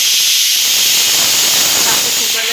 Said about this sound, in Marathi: आपल्या कुकरला शिट्टी पण होत आहे